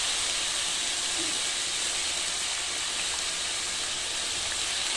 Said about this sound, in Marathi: त्यानंतर आपण जी कांद्याची पात चिरून घेतलेली होती ती आता आपण टाकून देणार आहोत